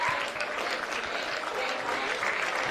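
At a state league baseball grand final, the crowd gives steady applause to the pitcher as he leaves the mound, a continuous wash of clapping at moderate distance.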